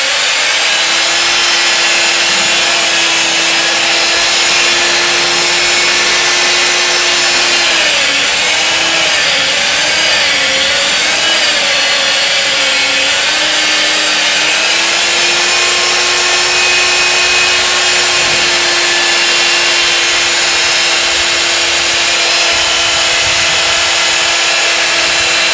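A power mixer stirs sprayable fairing compound, giving a steady, loud whining drone that wavers slightly in pitch and runs continuously the whole time with no voices.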